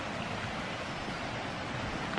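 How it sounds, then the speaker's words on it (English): A swollen creek rushes after heavy rain beside an off-grid cabin, a steady, loud broadband roar of churning water filling the whole clip with no pauses. "Our creek is just going crazy."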